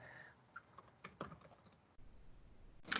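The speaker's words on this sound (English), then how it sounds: "As you're typing away the question" Quiet typing on a computer keyboard: a short burst of scattered key clicks in the first second and a half, then a brief pause and a final louder clatter, all faint and close with no talk.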